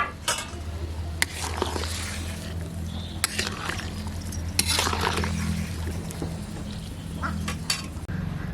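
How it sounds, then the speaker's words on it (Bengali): Fish go into a pot of boiling curry broth with chilli, amid clinks and clatters of a metal utensil against the pot and a soft, steady bubbling underneath. "এখন মাছগুলো দিয়ে দেব।"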